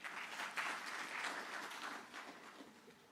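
Steady applause from an audience at a university innovation and exhibition week, greeting a junior school team; a fairly quiet, even stretch of many hands clapping with no voices over it.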